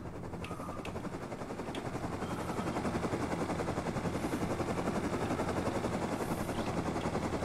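A helicopter in the survival video game Rust approaches, its rotor a steady low chopping thrum that slowly grows louder over several seconds, with faint distant gunfire pops mixed in.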